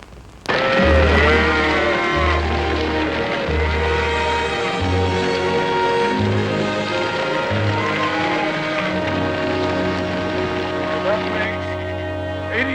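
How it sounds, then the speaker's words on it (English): A herd of cattle moos repeatedly, with long low calls one after another and overlapping, over a steady background patter like rain and other farm sounds. "That makes 83 head of cattle"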